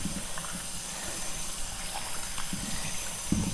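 Kitchen tap water running steadily while red tilapia fish are rinsed before cutting, a continuous broadband hiss with faint splashes, moderately quiet and alone throughout.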